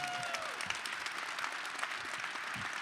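Continued crowd clapping at a Detroit NFL Draft rally, a steady, moderately loud wash of many hands with no break.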